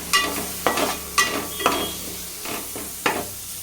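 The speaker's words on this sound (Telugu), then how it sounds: "తరిగి ఉంచుకున్న టమాటా ముక్కలు వేసుకొని అంతా ఇలా కలిసేటట్టు ఒకసారి కలుపుకోవాలి" Brinjal curry frying with chopped tomatoes is stirred in a pan, giving a spoon's periodic scrapes and soft knocks over a constant bright sizzle, close up and with no talking.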